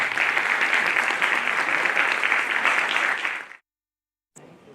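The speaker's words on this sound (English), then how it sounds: "a big round of applause for him" Loud, dense applause from a seated audience of parents and students welcoming a speaker at an exam-preparation talk, steady for about three and a half seconds before cutting off abruptly into silence.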